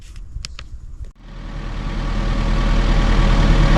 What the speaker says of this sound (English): let's get the tractor started and engage the parking brake